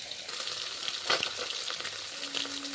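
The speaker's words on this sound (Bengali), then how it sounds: "এই যে 3 পিস ভাজা হয়ে গেছে, আরও 3 পিস ভাজা বসানো হয়েছে" Pieces of Bhola fish fry in hot oil in a pan with a close, steady crackling sizzle, broken by a brief louder burst and a few soft knocks.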